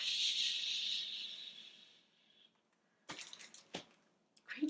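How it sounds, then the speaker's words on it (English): A toilet flushes with a loud rushing hiss of water that fades out over about two seconds, followed by a few short clunks and bumps close by. "And then we hear a happy"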